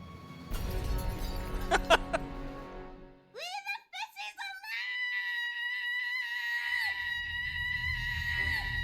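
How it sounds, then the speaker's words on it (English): A stretched, distorted Wilhelm scream from the Cthulhu adventure game Gibbous wails out as a long, wavering shriek, following a burst of shouting voices and ending over a low rumble. "Was it the William scream stretched?"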